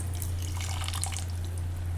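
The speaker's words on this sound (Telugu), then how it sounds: "అది దాంట్లో వాటర్ పోసి పిసికేసి పోసేయండి" Water is poured into soaked tamarind while cooking a tangy egg and tomato curry, a continuous splashing trickle that runs steadily for the whole stretch over a low electrical hum, with no talking.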